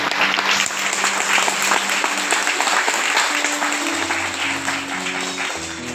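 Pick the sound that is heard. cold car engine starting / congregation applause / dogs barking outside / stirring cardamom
congregation applause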